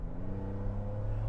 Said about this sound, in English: as you guys can hear from the exhaust sound behind me, the Raptor